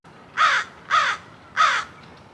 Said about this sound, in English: There were so many crows cawing around us, which is just one of my favorite noises.